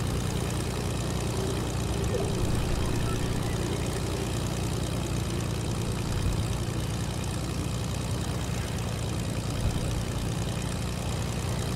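A plane engine in Fortnite drones steadily throughout, a constant low propeller-like hum at even volume with no talk over it.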